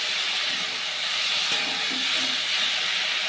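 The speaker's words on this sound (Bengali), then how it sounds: "এবার দিয়ে দিলাম ভেজে রাখা আলু পটল, দিয়ে মশলাটা আরও খুব ভালোভাবে কষিয়ে নেব আলু পটলের সাথে।" Fried potatoes and pointed gourd sautéing with spices in a pan, a steady broadband sizzle and hiss throughout, close and fairly loud, with faint stirring clinks and no voices.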